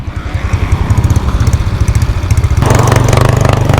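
A Honda Wave 110 motorcycle with its stock exhaust revs loud and close, its pulsing engine note climbing sharply partway through into a harder, rattling rev.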